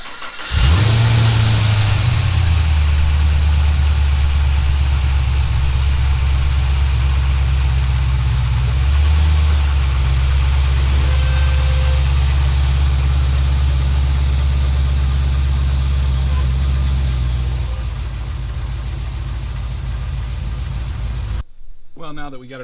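A Chevrolet SS with the supercharged LSA V8 cranks and fires, flares briefly, then settles into a loud, steady, deep idle with a small blip midway before the rumble eases near the end.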